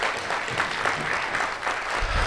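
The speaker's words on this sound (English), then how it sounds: "let's give her a round of applause" Audience applause for a presenter at a Latino education conference, a full, fairly close burst of many hands clapping that continues steadily with a few faint crowd noises.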